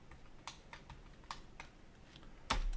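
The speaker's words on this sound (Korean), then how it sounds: "스페이스, 클릭입니다." Computer keyboard space bar presses and mouse clicks while working on pipe insulation quantity takeoffs from drawings: a few soft, spaced clicks, then one sharp, louder click near the end, close and quiet, with no talk.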